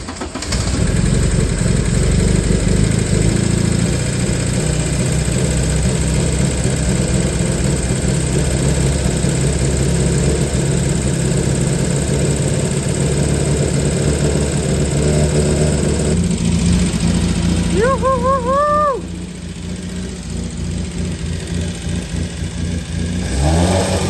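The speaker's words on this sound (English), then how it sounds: "The Porsche is finally back running." A carbureted Porsche engine, back running after a carb conversion, runs steadily and loud throughout with a continuous rumble, revving and surging, while a brief whirring squeal rises near the end.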